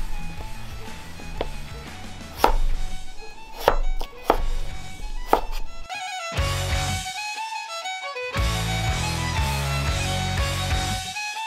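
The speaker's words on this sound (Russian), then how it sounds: "А затем нарезать на дольки." A knife chops peeled potatoes into wedges on a board, a run of sharp irregular knocks followed by steadier cutting, with no talking.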